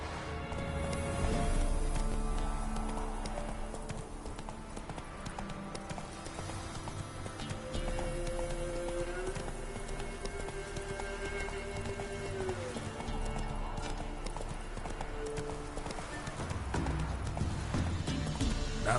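Roach, the horse in The Witcher 3, gallops with steady rapid clip-clop hoofbeats set within a dense game soundscape of music and ambience, with a brief whinny-like tone partway through.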